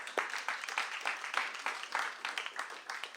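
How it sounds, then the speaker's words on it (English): An audience at a poetry month celebration breaks into steady, dense clapping, with hand claps rippling throughout at moderate loudness and no voices over it. "Let's clap for that, man."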